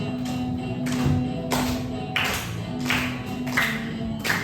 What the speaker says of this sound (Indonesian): Boleh pakai tepuk tangan.